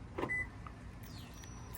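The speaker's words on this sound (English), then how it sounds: "the mirrors automatically fold in" Side mirrors on a 2022 Toyota Tundra pickup power-fold inward after locking, a faint short electric motor whir with a small click, heard alone in quiet surroundings.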